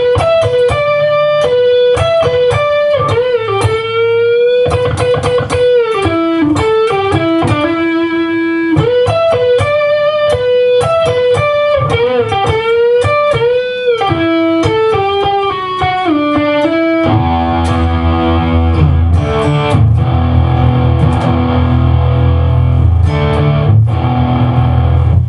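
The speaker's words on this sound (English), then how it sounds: "the first solo should sound like this in the intro." A loud, distorted electric guitar plays a melodic solo with bends and sustained notes, backed by bass and drums that thicken toward the end.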